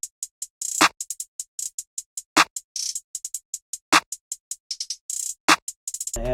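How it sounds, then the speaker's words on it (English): A sharp snare cracks on a regular backbeat, about every one and a half seconds, over a busy trap hi-hat pattern with quick rolls, all programmed in FL Studio and heard alone without speech. "the snare sounds like this"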